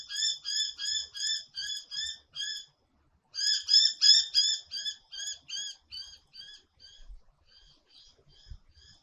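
A small bird sings repeated bright, chirping phrases in quick rhythmic bursts, pausing briefly before a louder run that gradually fades into sparser notes, heard alone in a quiet outdoor setting.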